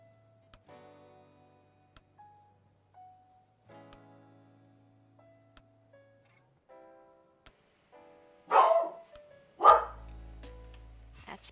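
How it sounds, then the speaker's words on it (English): Dogs in the game Myth of Empires give two sharp, loud barks near the end, after a stretch of quiet ticking and soft tonal game sounds. "That's my dogs."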